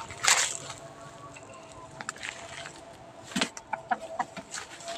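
A chicken pecks at grapes among vines, with short clucks and sharp pecking or rustling taps scattered across a few seconds, close by, over faint background noise.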